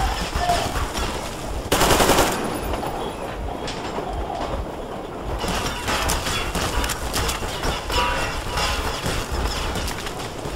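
Enemy gunfire in the shooter Metro Exodus rattles in rapid bursts amid a rhythmic, train-like clatter, with a loud burst near two seconds and steady clattering fire throughout.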